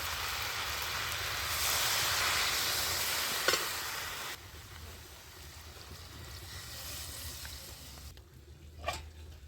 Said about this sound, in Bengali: এইবার আমি পরিমাণ মতো জল দিয়ে দিচ্ছি